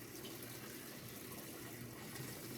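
A faucet runs steadily while laundry is rinsed, a soft, even gush of water with no break, fairly quiet and close, with no talk over it.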